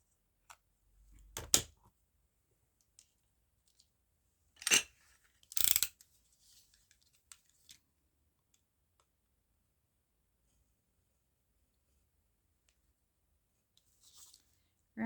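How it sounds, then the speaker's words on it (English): A few sharp snips of scissors cutting paper, close by, separated by quiet pauses, with faint rustling in between. "use the scissors while they're in my hand"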